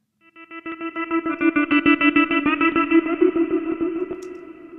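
A synth chord processed with the Submerge plugin pulses in a rapid rhythmic pattern, swelling in and then fading, thick with distortion, echo and chorus-like effects.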